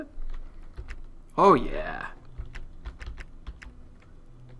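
Keys clatter in quick, uneven taps on a computer keyboard inside the Nancy Drew game, a run of crisp clicks over low background hum, with a short spoken burst near the start.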